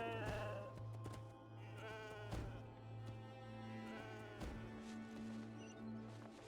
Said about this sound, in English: Whoa, did it attach to that goat this time?